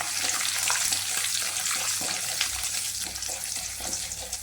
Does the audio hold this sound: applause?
no